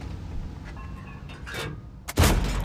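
A loud, sharp tank cannon blast near the end, from a Centurion Action X in the video game World of Tanks, following faint game background noise and a couple of softer distant thuds.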